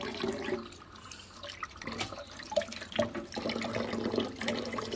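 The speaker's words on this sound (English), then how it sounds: "let that fill with water" Running water from a tap splashes and gurgles into a pot at a kitchen sink, with uneven knocks and pours rising and falling over several seconds, no talking.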